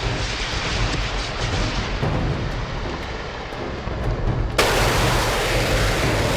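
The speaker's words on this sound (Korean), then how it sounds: "굉음과 함께 불을 뿜으며 날아오는 신기전은 적에게 있어 공포 그 자체였다" A continuous roaring, rushing blast of Joseon-era singijeon black-powder rocket arrows launching fills the clip, swelling suddenly louder near the end like a powerful burst of fire.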